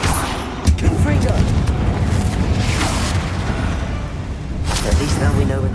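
Confringo fire-blast spell explosions in the Hogwarts Legacy video game, heavy booming blasts with rumbling low end, one sharp hit near the start and another burst late, over continuous dense rumble.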